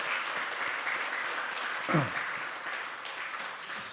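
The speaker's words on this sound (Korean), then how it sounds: "우리 박수하시겠습니다" A church congregation at a Korean Sunday worship service applauds to welcome a newly registered member, giving a steady, moderately faint wash of clapping with a brief voice breaking through midway.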